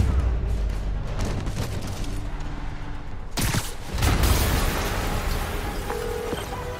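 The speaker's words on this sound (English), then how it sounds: "Yuri, an explosion just... I saw it." A loud explosion bursts through the PS5 game Spider-Man Remastered, a broad blast followed by a rumbling tail over steady game soundtrack and ambience.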